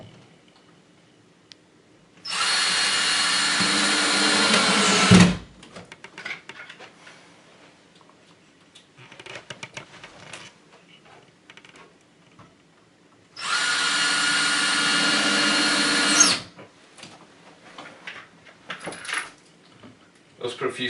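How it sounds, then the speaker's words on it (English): A screw gun drives screws into a faux brick wall panel in two loud, sustained whirring bursts, separated by quieter clicks, rattles and handling sounds. "grab our screw gun and secure this to the wall"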